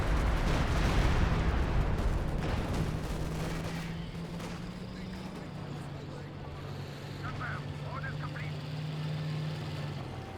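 Artillery barrage in Company of Heroes 2: dense, rumbling blasts pile up early and then fade into a lingering battlefield drone, with a low engine-like hum running throughout and a commentator talking over it.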